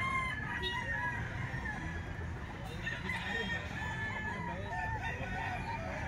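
Gilmore hatch stag roosters crow and cluck in a busy farmyard, several birds calling at once near and far over a constant noisy background.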